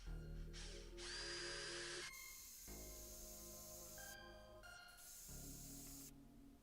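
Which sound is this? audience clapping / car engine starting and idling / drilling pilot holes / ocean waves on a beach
drilling pilot holes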